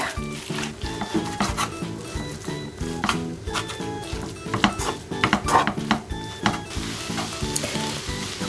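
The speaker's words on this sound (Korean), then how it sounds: "묻힌 것을 볶아주겠습니다." Dried radish greens coated in perilla seed powder stir-fry in a pan with a steady close sizzle, while a utensil scrapes and taps the pan again and again in an uneven rhythm.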